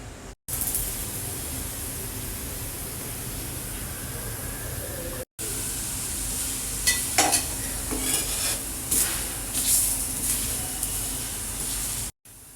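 Batter sizzles steadily in a pan over a high flame, with a constant hiss that is briefly cut by a few short silences. Light scraping and clinking come near the middle, and no one speaks.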